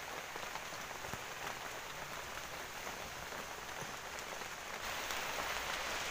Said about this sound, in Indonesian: Sambil nunggu hujannya reda kawan, kita berteduh dulu.